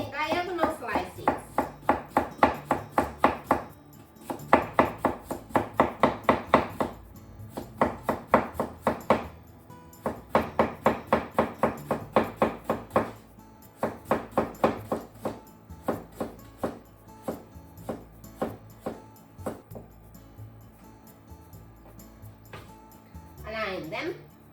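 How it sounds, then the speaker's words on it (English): A knife slices a cucumber into thin strips on a cutting board in quick, even bursts of crisp chops that pause now and then, with a voice talking over them. "I'm making cucumber into thin strips."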